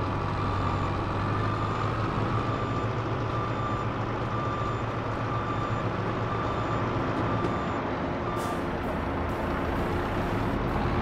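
A truck idles and reverses in Farming Simulator 22, its steady engine drone carrying a thin repeating reverse beep throughout, with a brief hissing burst near the end.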